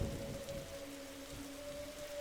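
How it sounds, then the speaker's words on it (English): Rain patters steadily on a rooftop in the video game The Darkside Detective, a soft continuous wash with a faint sustained tone running through it, no voices. "Every time I bring a book back, I end up on the roof in the rain."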